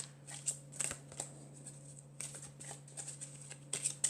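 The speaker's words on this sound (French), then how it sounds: "je vais commencer par tirer deux cartes du tarot de la bienveillance pour avoir les énergies principales" Tarot cards shuffled and drawn by hand at close range, a soft rapid riffling and flicking in quick bursts with brief pauses, quiet and without talk.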